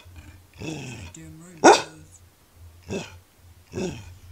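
A pup barks and growls in a few short, sharp bursts, with one loud yelp-like bark standing out, close to the listener and mixed with some vocal noise.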